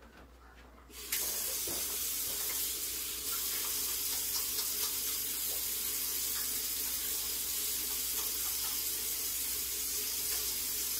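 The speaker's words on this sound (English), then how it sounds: "let me rinse my hands" Kitchen tap running steadily as hands are rinsed, a continuous close hiss of water splashing into a sink that starts abruptly and carries on evenly to the end.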